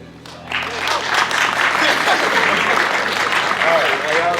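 Audience applauding children at a summer camp performance, steady close clapping that starts suddenly and holds at full strength, with scattered voices and cheers mixed in.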